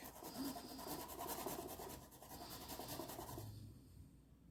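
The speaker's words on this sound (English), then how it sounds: "So I grate it until there's nothing left to grate." Fresh ginger grated in a home kitchen, a quiet continuous rasping scrape that holds steady for several seconds and then stops.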